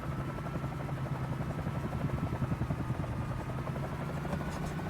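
Steady rotor chop and engine drone of a Bell 47J Ranger helicopter in Microsoft Flight Simulator, a continuous rhythmic thumping held at an even, close level throughout.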